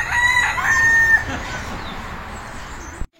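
Chickens and a rooster at a tropical park: one loud, close cock-a-doodle-doo crow rings out first, then fades into quieter farmyard ambience.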